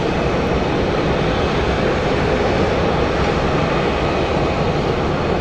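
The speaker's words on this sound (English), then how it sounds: "Next up for departure is WestJet 1403 going to Calgary." A WestJet Boeing 737-700 taking off at Phoenix Sky Harbor Airport, a loud, steady, broad jet engine roar that holds continuously with no talking.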